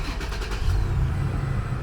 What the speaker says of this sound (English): Start a truck.